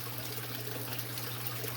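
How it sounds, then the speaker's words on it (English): Water rushes from a brackish aquarium through a gravel vacuum siphon hose, a steady low trickling and gushing flow that is continuous, close and moderately quiet, with no voices. "it sucks water out of the tank so fast"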